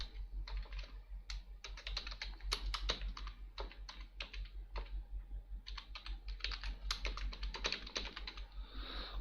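Typing on a computer keyboard while entering text in MS Word: bursts of quick, close key clicks with short pauses between runs, over a low steady hum, with no talking.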